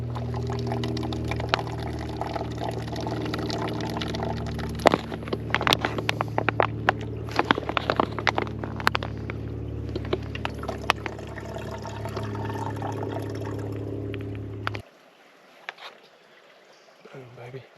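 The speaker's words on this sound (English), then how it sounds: "I'll go ahead and fill my bottle" A water bottle filled from a mountain stream on a backcountry trip in the North Georgia public lands, with continuous splashing and gurgling running water up close for about fifteen seconds before it stops, and a few sharp handling clicks along the way.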